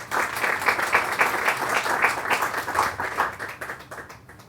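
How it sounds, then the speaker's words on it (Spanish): Audience applause fills an evening presentation of the poetry book "Viaje Terrestre" by Luis Enrique Vázquez Vélez, steady and dense clapping throughout, tapering slightly toward the end. "Para que pidan aplauso."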